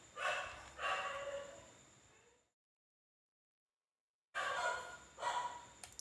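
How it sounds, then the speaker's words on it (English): A dog barks in short bursts at moderate distance, two barks, a gap of silence, then two more, with no talk over them. "the dog starts barking when I start streaming"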